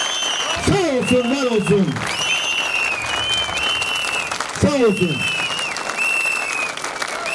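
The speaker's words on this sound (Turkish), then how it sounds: "Güçlü bir alkış istiyorum." Steady crowd applause throughout a union collective agreement celebration, with someone speaking loudly in Turkish over the clapping.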